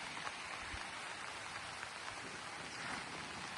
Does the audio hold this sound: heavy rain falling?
yes